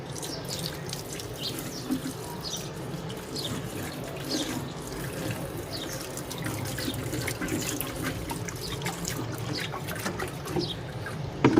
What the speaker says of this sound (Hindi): आपने इसमें थोड़ा सा पानी भर लेना है।